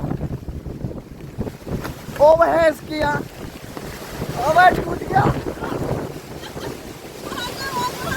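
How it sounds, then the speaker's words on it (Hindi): Gusty storm wind at Shivpuri beach in Rishikesh buffets and rumbles against the microphone in uneven surges while someone speaks excitedly over it. "पूरा तूफान आ चुका है यहाँ पे"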